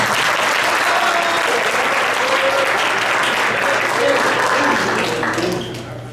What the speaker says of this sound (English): Round of applause for Jacob Campo.